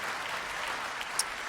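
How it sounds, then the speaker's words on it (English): Soft applause from a church congregation, a quiet sustained patter of clapping heard from some distance with no one speaking over it. "clap for my unqualification."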